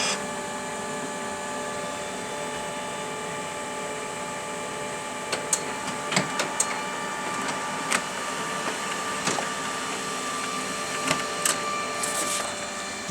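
An HP LaserJet Pro 200 M276nw colour laser multifunction printer runs a colour copy, producing a steady mechanical hum with tonal whine, joined midway by sharp intermittent clicks and clacks of paper handling, close and moderately loud with no talking.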